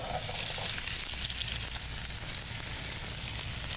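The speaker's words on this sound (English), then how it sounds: "So here, I'm just going to put the onions in here really quickly." Onions fry in hot oil in a pan for lomo saltado. A dense, steady crackling sizzle holds at close range with no voices.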